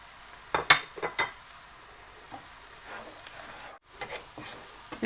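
Spices, salt, chilli, turmeric, garlic-ginger paste and garam masala frying in a pan for daal mash, a low sizzle broken by several sharp clinks and scrapes of a spoon against the pan.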